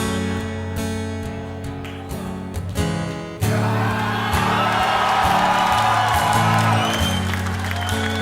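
A live crowd at an acoustic concert breaks into loud whoops, applause and cheering over guitar chords, a sustained roar that swells suddenly and continues under the music.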